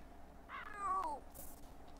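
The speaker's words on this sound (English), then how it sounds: "Oksana, we should probably take our cat to the vet" A cat in The Sims 4 video game lets out one clear, close meow with a rising then falling pitch, fairly quiet, followed by a soft brief click, with no talking over it.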